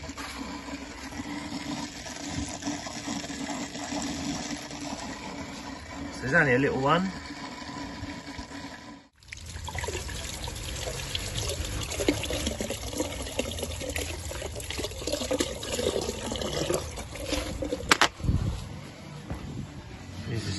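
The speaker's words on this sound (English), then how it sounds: "You know, you can hear the air flushing through this circuit now." Water gurgles and rushes through an underfloor heating circuit as trapped air is flushed out during commissioning, a continuous liquid flow with bubbling surges, while someone talks nearby.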